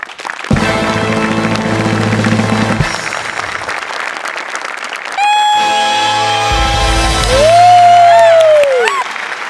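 A studio audience rises for a standing ovation for performers, with loud, steady clapping and scattered cheers over music that carries on throughout.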